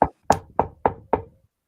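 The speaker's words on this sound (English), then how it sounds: "I want to try knocking." Five sharp knocks on a door, close and evenly spaced, each one dying away quickly, with no voices.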